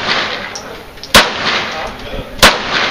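Two sharp, loud cracks from a Sig Sauer Mosquito .22 pistol, spaced about a second and a half apart, over a constant hissy outdoor background.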